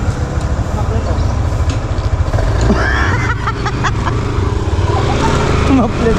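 A motorcycle engine runs rough and close outdoors, a low chugging exhaust note with a few sharper bursts over a steady rumble.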